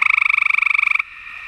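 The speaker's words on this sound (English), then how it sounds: "there's a little tree frog. And he has these little sticky pads, and these are the guys that are making all those noises." A small tree frog with sticky toe pads calls in a fast, pulsing trill, loud and close, lasting about a second before cutting off, leaving a faint lingering tone.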